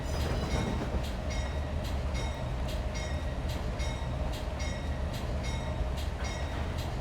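A train rolls steadily through the Trainz railway simulator game, its wheels giving a regular clickety-clack over a constant low rumble, loud and unbroken with no voices.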